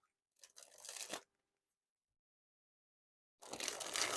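Playing cards from a Composition Deck are dribbled from hand to hand, giving two bursts of quick riffling flutter separated by a silent gap, close and crisp with no talking.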